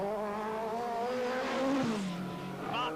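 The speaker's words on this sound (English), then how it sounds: "His Lancia Delta looking and sounding superb." A Lancia Delta rally car engine at the 1986 Monte Carlo Rally drones loudly and steadily, its pitch rising and falling as it passes near, with no one speaking.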